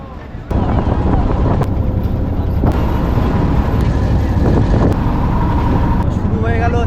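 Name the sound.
launch boat ride on the Ganges at Varanasi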